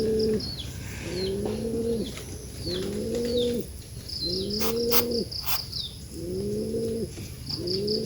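A thin, wounded pigeon coos close by, giving about six deep, repeated coo phrases in a steady rhythm with short pauses, with faint high chirps from other birds in the background.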